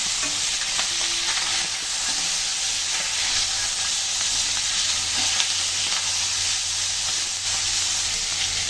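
Green chilies and vegetables sizzle loudly in a hot pan and are stirred, a constant close frying hiss with occasional scraping over nearly nine seconds.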